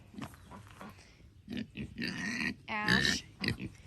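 A pig grunting and snorting close by on a homestead farm, a series of short, rough grunts with a louder, squealing burst near the end.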